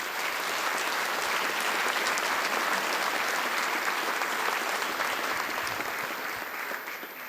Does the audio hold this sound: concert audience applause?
yes